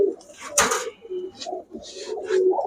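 Pigeons in a cage at a bird sale coo in soft, throaty repeated calls, close and clear, with a brief rustle or flutter and faint background noise.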